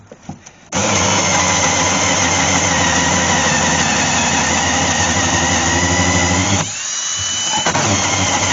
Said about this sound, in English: I'm running out of room for my drill though.